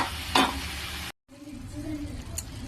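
Cucumber, tomato and dried red chillies sizzle and fry in a pan, with a steady frying hiss, a brief stir near the start and a short cut in the middle.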